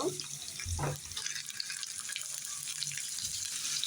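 Bitter gourd (ucche) frying in a pan with onion and green chilli, giving a steady broadband hiss and sizzle with a few low knocks near the start.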